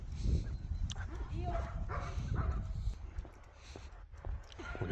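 A dog barks and yips several times near a sheep, close and fairly loud, mixed with shuffling, and a person speaks briefly over it.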